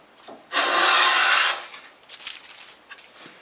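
A hand plane takes a single full pass along a wooden board while truing a spring joint, one loud rasping swish lasting about a second, followed by softer scraping and handling noises.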